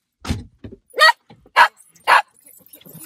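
A Cavalier King Charles Spaniel gives three or four sharp, close barks spaced about half a second apart, with a softer grunt first and quiet whimpering noises between, no talking.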